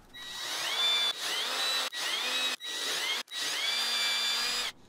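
A power drill whirs in several bursts, spinning up and biting into wood with short pauses between runs, close and fairly loud.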